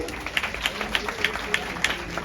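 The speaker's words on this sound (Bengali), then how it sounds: "তাই ওদের জন্য একবার জোরে হাততালি হবে।" Audience at a makeup workshop clapping, a short run of loud close claps in a steady rhythm, with a background murmur of voices.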